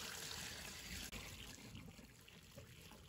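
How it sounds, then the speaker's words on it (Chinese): Clean water is poured over salt-rubbed king oyster mushrooms to wash them, a steady broadband splashing and trickling that runs throughout, close and fairly quiet, with no talking. "再倒入清水"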